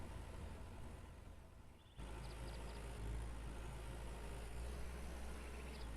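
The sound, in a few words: tractor engine in the video game Farmer's Dynasty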